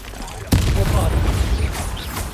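Bombarda explosion spell in the Hogwarts Legacy video game: a sudden booming blast hits about half a second in, followed by a rumbling, crackling tail of debris and magic effects.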